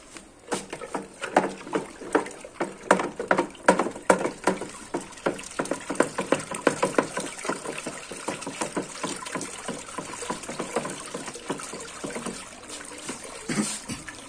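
Soda stirred into a homemade dish soap mixture, rapid rhythmic liquid sloshing and clinking strokes close by, slowing toward the end, with no speech.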